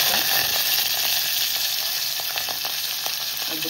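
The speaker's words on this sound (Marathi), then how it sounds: "तेल गरम झाले, राई टाकली, जिरे आणि थोडासा हिंग," Mustard seeds, cumin, a pinch of asafoetida and chilies crackle in hot oil for Agri-style chana masala, a steady loud sizzle with scattered pops throughout, no voices.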